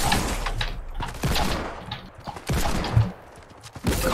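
Rapid bursts of video game gunfire, several loud close shots in an uneven cluster with short gaps between them.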